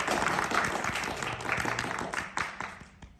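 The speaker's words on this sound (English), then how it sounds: "give yourselves a round of applause for goodness sake" An audience claps through a live birthday-bash show, a dense wash of hand claps that holds steady and then thins toward the end, with some voices mixed in.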